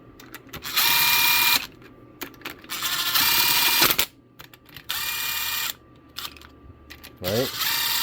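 A ratchet wrench tightens bolts on a two-stroke motor, with several loud bursts of rapid clicking separated by pauses and small handling knocks, close up.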